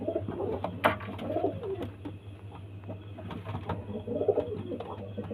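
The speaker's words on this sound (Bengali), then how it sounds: "দেখুন পায়রাগুলো দেখুন খুব সুন্দর পায়রা" Pigeons kept for sale coo softly in a repeated, irregular rhythm at night, close by over a steady low background hum.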